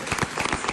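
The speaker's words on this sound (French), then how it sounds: "Des applaudissements nourris, Marlène Meg." Applause from a TV studio audience during a live French broadcast, a brief burst of clapping that sounds fairly full but low in level.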